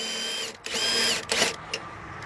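An impact wrench with a 1 1/8 inch socket loosens a rusty shock absorber bolt on a Freightliner Cascadia truck, giving short whirring bursts, two longer runs and a brief final blip, fairly close.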